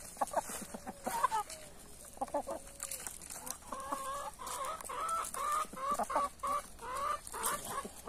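Chickens and roosters cluck and cackle on a small Brazilian farm, a hen singing before laying, with repeated close, loud bursts of calls forming a busy, continuous flock chorus.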